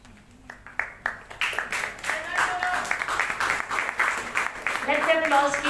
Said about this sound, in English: Let the applause keep coming.